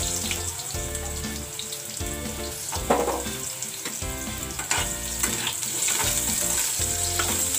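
Potatoes for a hotel-style mixed vegetable sabzi frying in a pan, a loud, continuous close sizzle with occasional stirring scrapes and clatters through the crackle; no one speaks.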